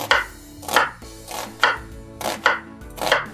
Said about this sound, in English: Cut the onion in half, right? We are going to make some cuts.